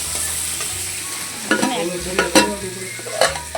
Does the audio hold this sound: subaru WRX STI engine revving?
no